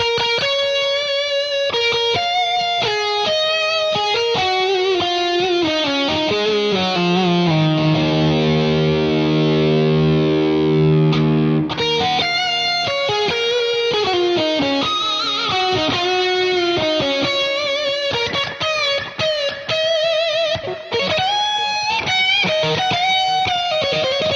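Les Paul electric guitar played as a distorted lead through a TINY V4 stereo rig, fast melodic runs with a held sustained chord in the middle, loud and close with no talking.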